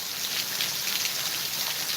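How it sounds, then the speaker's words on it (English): Pouring rain from Hurricane Ian makes a steady broadband hiss, close and even throughout, with no voices. "we're getting pouring rain."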